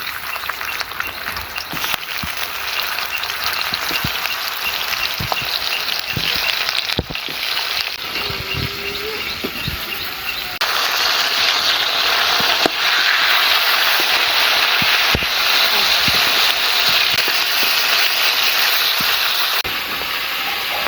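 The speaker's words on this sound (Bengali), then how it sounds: "আলু ভাজার তেলের মধ্যে কাঁকড়াগুলো ভেজে নেব।" Steady loud sizzling and hissing of sundori crabs frying in hot oil, continuous throughout with occasional sharp crackles and pops.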